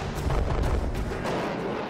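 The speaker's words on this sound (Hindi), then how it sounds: "अब ताइवान के तोप गोले उगल रहे हैं।" Taiwanese artillery cannons fire shells in a live-fire drill at sea, heard as a dense, loud stretch of booming, rumbling blasts that run together without pause.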